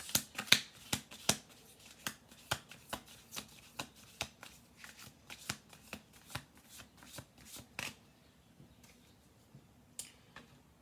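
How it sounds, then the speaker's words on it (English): Cards from a deck being shuffled by hand, a run of crisp riffling bursts and snaps in quick irregular succession that thins out toward the end, close and fairly quiet, with no voices. "We'll do 2 more shuffle throughs."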